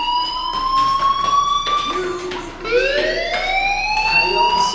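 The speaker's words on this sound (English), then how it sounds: "do you hear that fire alarm?" School fire alarm in the game Life is Strange, a loud electronic siren that sweeps and wavers in pitch, with a brief dip partway through before it rises again.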